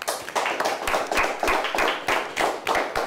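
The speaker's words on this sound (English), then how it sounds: "A nice round of applause." A small group at a high school quiz competition claps in a quick, steady rhythm for a few seconds, close by and fairly loud, with no talking.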